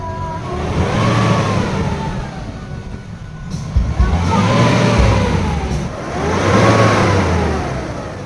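Close, loud diesel revving from the YD25 engine of a Nissan Navara with a low-power and black-smoke fault, rising and falling in about three swells as the accelerator is pressed.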